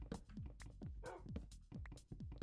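A dog in Minecraft 1.0 gives a string of repeated short whimpers and yips, each one dropping in pitch, steady and close.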